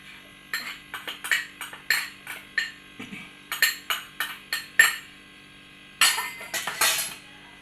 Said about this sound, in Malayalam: ഇതൊന്ന് അരിച്ചെടുക്കണം.